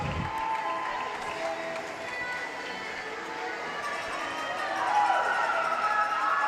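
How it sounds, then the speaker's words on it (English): Crowd at Everett Arena in Concord, New Hampshire, cheering after a goal in a girls' varsity high school hockey game: a steady, moderately loud roar of many voices that rises toward the end, with the sound of a large indoor rink. "This crowd's getting into it over here at Everett Arena"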